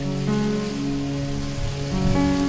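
Steady rain falling on a surface at night, a continuous even patter that stays fairly loud and close throughout, with no talking over it.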